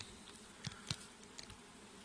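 Faint buzzing of honeybees at a hive of around 50,000 bees, with a few brief louder passes of single bees close by over a quiet background.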